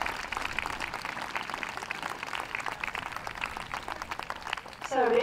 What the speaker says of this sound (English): give them a clap as they leave the ring